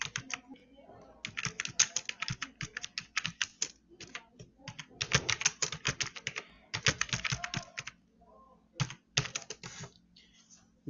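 Rapid clicking on a computer keyboard comes in dense bursts of keystrokes with short pauses between them, close and crisp, with a faint hum underneath.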